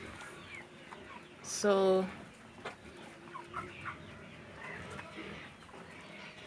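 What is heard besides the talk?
broiler chickens clucking in poultry unit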